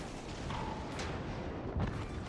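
Secondary guns of the German battleship Gneisenau fire in a World of Warships naval battle, a few muffled booms rumbling through constant dense engine and sea noise, one heavier thump near the end.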